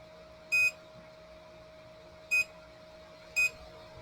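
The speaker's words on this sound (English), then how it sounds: "Oh, beeper's nice and loud, isn't it?" A Creality CR-6 SE 3D printer's beeper gives three short, fairly loud electronic beeps at uneven intervals over a faint steady hum, with no talking.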